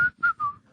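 A person whistles three short, clear pitched notes in quick succession, each slightly lower than the last, close and alone.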